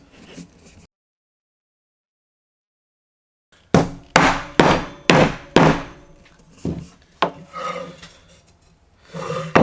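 Wooden boards with half-blind and through dovetail joints knocked together during box assembly: a quick run of sharp, loud mallet-like taps, then scattered softer knocks and shuffling, after a short silence.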